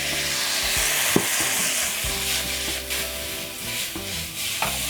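Cauliflower frying in extra virgin olive oil with rosemary in a pan, a steady close sizzle with occasional stirring scrapes and clicks, no talking.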